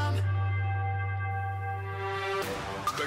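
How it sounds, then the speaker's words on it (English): A bell tone played in reverse swells into a song transition, a sustained ringing that grows and then cuts off into a sharp hit and rising swirl at the end. "it sounded like they went ahead and played the bell and then reversed it into the transition"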